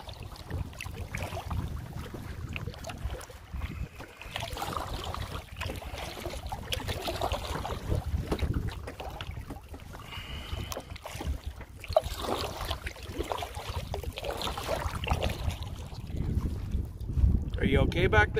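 A boat is paddled on the Kennedy River on Vancouver Island in wind and choppy water, with constant wind buffeting, splashing water and low rumbles, close and fairly loud.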